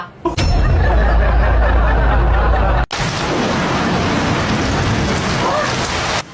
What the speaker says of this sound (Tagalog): Hala, ang lakas ng ulan.